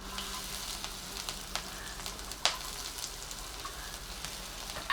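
Finely chopped ginger, garlic and green chili dropped into hot oil with popped mustard seeds, cumin and asafoetida, a quiet, even sizzle with small crackles and one sharper tick partway through.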